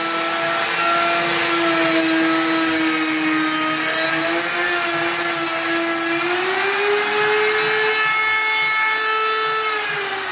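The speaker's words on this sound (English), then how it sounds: "putting a router profile edge on a top for me" A router whines loudly and steadily while cutting a profile edge on a wooden top in a furniture bench shop, its high tone sliding gradually upward, dense and continuous with no talk.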